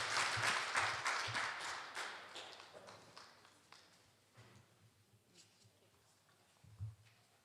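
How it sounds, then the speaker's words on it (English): An audience at a petroleum policy consultation applauds the panel. The clapping is fairly faint and is strongest at the start, then thins out and fades over several seconds. "can we give another round of applause for the panel?"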